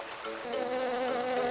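Bees drone in a steady, close buzz that grows slightly louder and then holds for a short stretch, with no voices over it.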